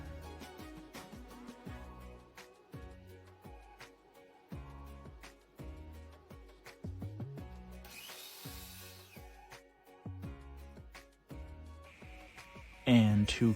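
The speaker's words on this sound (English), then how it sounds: "I am cutting the wood planks at about 15 inches here." Reclaimed wood planks being cut to about 15 inches with a power tool, heard as a series of short, close, rhythmic bursts of motor whine and cutting noise separated by pauses, ending in a louder burst.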